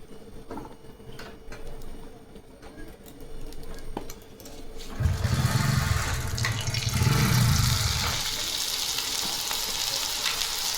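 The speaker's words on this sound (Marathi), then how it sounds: "ही शेव आपल्याला कमी गॅसवर तळून घ्यायची आहे." Sev, gram-flour noodles, frying in hot oil over a low flame: a soft bubbling sizzle that swells midway into a louder, steady frothing hiss, then eases back to a quieter simmer, with no voices.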